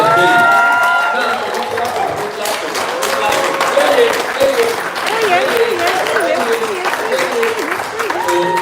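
Audience applause welcoming a speaker at a creative meet-up event, a steady wash of clapping lasting throughout with cheering and voices mixed in.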